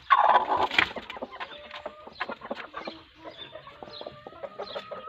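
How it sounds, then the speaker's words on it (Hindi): Three brooding hens sitting on eggs cluck and murmur close by as they peck at feed set in front of them, a loud burst of clucks at first, then softer, irregular chatter. "3 मुर्गियों को मैंने अंडों पर बिठाई है और तीनों को सामने खुराक डाल दी है।"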